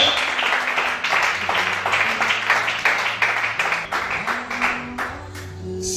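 A church congregation applauds through a service, with steady rhythmic clapping and a sustained musical tone underneath, and voices rising over it now and then.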